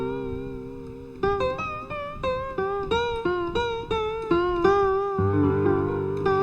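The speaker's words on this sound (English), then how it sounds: "Hear how it has that kind of wobble, that kind of nice wobble without the frequency shifter." A synth line with a wobbling, warbling tone, made without a frequency shifter, plays as a sequence of stepped sustained notes that ends in a denser chord, loud and steady with no voice over it.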